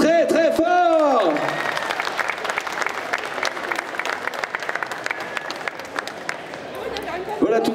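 Loud, sustained applause from a crowd at a Disney concert during a geek convention, dense clapping that fills the clip after a brief voice at the start, with some cheering mixed in.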